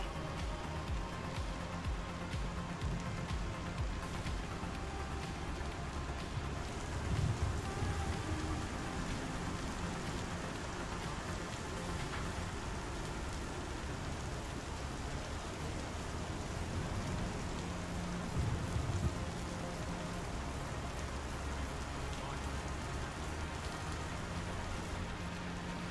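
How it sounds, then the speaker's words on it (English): Steady rain in the Star Citizen game, a dense continuous hiss of falling drops on surfaces lasting the whole stretch, with faint low rumbles now and then and no talking. "you can still hear the rain"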